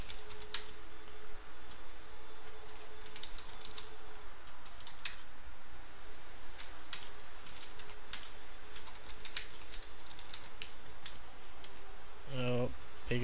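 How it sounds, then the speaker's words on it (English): Keyboard typing on a computer running Linux Mint, steady light clicks throughout, with a louder burst of taps near the end and faint background hum. "let me type in something"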